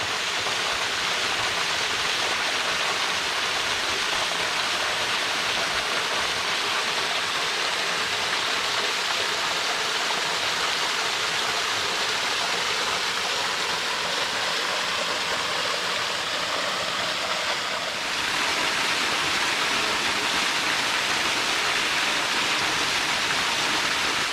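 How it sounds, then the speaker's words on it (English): A steady, full roar of falling water at the bottom of Lost Falls in DeSoto State Park, Alabama, fills the space, broadband and constant throughout, with a slight shift in tone near the end. "Here we are at the bottom of Lost Falls."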